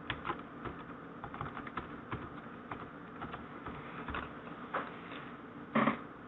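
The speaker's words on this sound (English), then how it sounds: "so I'm just going to type that in." Password typed on a computer keyboard: quiet, fast irregular key clicks in close succession, with one louder cluster of taps near the end.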